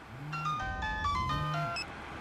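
A mobile phone rings inside a moving car, a repeating electronic melody of bright tones in two bursts, heard close and fairly loud over low vehicle rumble.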